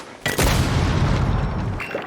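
Grenade blast in Rainbow Six Siege, a single loud booming explosion with a sharp onset that rumbles and decays over about two seconds, heard alone.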